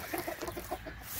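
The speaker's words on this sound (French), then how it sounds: "Donc la petite poule." A small hen in a poultry flock clucks in a quick run of short, soft notes, fairly faint and with no voices over it.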